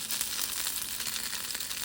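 Sizzling hot pan with plenty of coconut oil, a close, steady frying hiss with fine crackles throughout.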